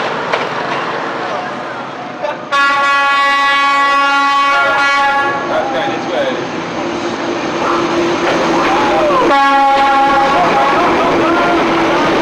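Train arriving in Hanoi, Vietnam, a loud, close, sustained rumble with long piercing horn blasts, one lasting several seconds and another near the end, over crowd noise and talk.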